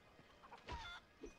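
Chickens cluck in The Bard's Tale for PlayStation 2: a few faint, short clucks close together, quiet and alone.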